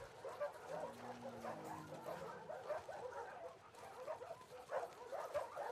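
Dogs in a WLF kennel in The Last of Us Part II, whimpering, yipping and barking in a busy, fairly faint cluster of short repeated calls against low background sound.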